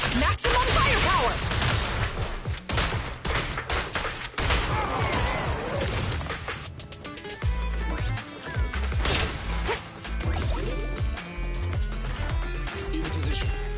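Rapid bursts of gunfire and impacts from the video game Zenless Zone Zero, dense and loud with crashing hits and effects layered over game music.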